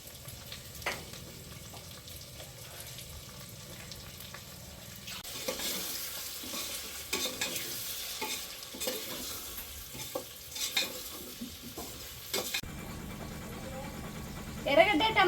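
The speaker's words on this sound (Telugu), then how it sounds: "ఇప్పుడు తరిగి పెట్టుకున్న వంకాయ ముక్కలు వేస్తున్నా." Brinjal pieces added to oil with tomato and onion, sizzling and frying while being stirred in a pan, with a soft steady hiss, scattered utensil scrapes and a louder burst near the end.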